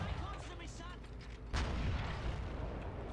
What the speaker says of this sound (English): Good job on the mortars. They're hitting the enemy hard.